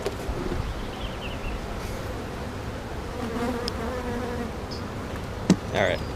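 Steady, dense buzzing of honeybees swarming around an opened hive during inspection, a continuous close drone with small clicks and rustles over it.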